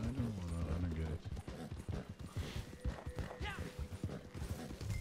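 Rhythmic horse hoofbeats clop steadily over a rumbling Red Dead Online game soundscape, with a low voice at the start and faint mechanical clatter.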